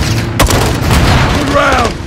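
A rocket launcher explosion in a military shooter video game lands as a sharp, heavy boom, followed by a rumbling roar and a whistling tail. It is loud, close and dense.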